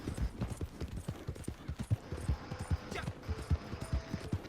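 Steady horse hoofbeats in a Rockstar video game, a regular trotting rhythm of low thumps continuing for several seconds, close and clear, with a voice briefly over the background.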